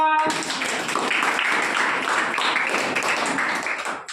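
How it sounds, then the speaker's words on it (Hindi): Schoolchildren in a government primary school classroom clap their hands together in a loud, dense burst that goes on for about four seconds, then fades out. Voices are mixed into the clapping. "ताली मारो"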